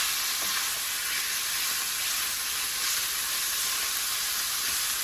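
Sausage for ham and sausage calzones fries in a hot pan, a steady loud sizzle with faint scraping as the meat is broken apart, with no talking.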